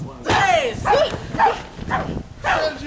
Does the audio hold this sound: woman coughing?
no